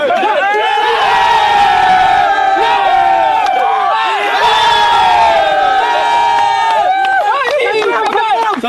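A crowd at the final of a Latvian T20 cricket Champions Trophy, Latvia A against Olaine Giants CC, cheers loudly and steadily for the champions, with many overlapping voices shouting through the whole stretch.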